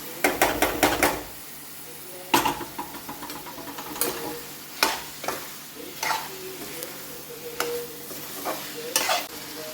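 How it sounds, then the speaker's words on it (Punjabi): Pumpkin sabzi tipped into roasted masala in a hot pan for a sweet-and-sour Punjabi dish, a burst of clattering followed by steady frying and repeated scraping stirs, close up, no speech. "ਮਸਾਲਾ ਆਪਣਾ ਜਿਹੜਾ ਉਹ ਭੁੰਨਿਆ ਗਿਆ ਹੁਣ ਆਪਾਂ ਵਿੱਚ ਪਾ ਦਾਂਗੇ ਸਬਜ਼ੀ"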